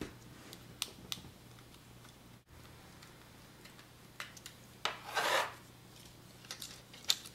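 Small screws being driven by hand to fasten a board onto a Treasure Seeker robot kit, heard as faint, intermittent scraping and ticking with one louder grinding rasp midway.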